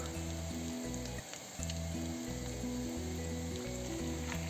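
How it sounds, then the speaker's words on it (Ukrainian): Homemade sausages sizzle in a hot frying pan, a steady close crackling hiss that runs throughout under a faint musical backing, with one brief dip in the middle. "Тепер відправляємо сосиски на сковородку розігріту, щоб вони обжарилися."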